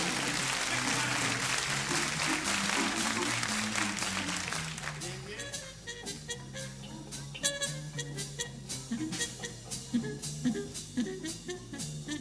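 Applause from the audience at a live 1978 jazz concert, loud and dense at first, then thinning to scattered claps under band sounds and speech.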